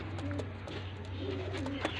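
Pigeons coo softly in repeated low calls over a steady background hum, fairly faint and unhurried.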